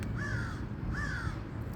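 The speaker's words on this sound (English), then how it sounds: "Hear the birds?" Three hoarse crow caws spaced evenly apart, moderately distant, over a steady low outdoor rumble.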